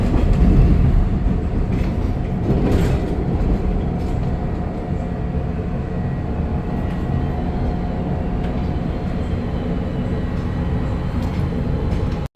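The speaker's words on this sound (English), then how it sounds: "The train has started to enter the Chicago skyline." A passenger train rolls steadily along the tracks into Chicago, a loud continuous rumble with faint rhythmic clacking heard from inside the car.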